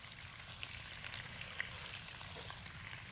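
Potatoes frying in a pan on a home stovetop give a steady, soft sizzle with faint crackles and pops, moderately close and continuous, with no talking.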